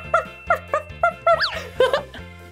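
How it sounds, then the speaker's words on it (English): A puppy dog barks several times in short, bright, high yips with a rising whine partway through. The barks sound close over a soft backing tone in a children's cartoon. "this one has a little puppy dog."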